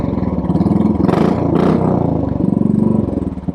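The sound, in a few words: Royal Enfield Classic 500 motorcycle engine rumbling at low RPM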